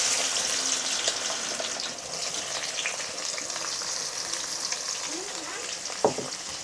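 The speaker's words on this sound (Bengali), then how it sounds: "এখন আমি এগুলো ভাজে নেব।" Chopped onions frying in hot oil with bay leaves, green chillies, dried red chillies and small cardamom pods: a steady, even sizzle from start to finish, with a single sharp utensil knock near the end.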